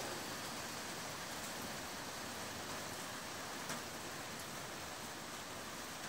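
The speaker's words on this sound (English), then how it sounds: "It is raining." Steady rain falls outdoors as a dense, even hiss that never lets up, with a few faint drips standing out now and then.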